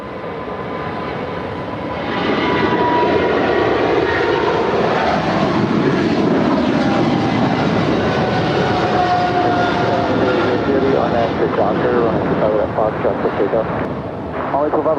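A China Southern Cargo Boeing 777 bound for Shanghai rolls down runway 25 left at LAX for takeoff, its engines building to a loud, steady roar that stays close and sustained, with talk over it.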